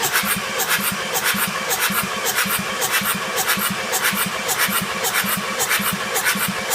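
Engine cranking on the starter during a cylinder compression test, a steady rhythmic chug of even compression strokes, close and continuous, with no talk.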